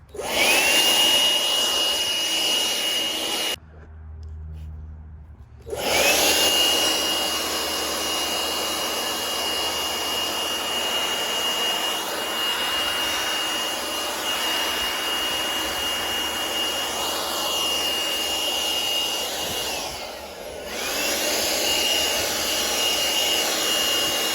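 A small Makita 18V cordless floor blower whines steadily with a high-pitched motor tone, cutting off briefly twice before starting up again and running on.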